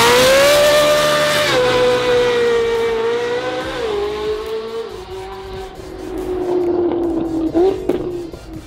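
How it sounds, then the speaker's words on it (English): A Ferrari 458 doing a standing burnout, its engine holding a loud, sustained high rev close by with small pitch shifts and tire squeal, then easing off near the end. "458, standing burnout."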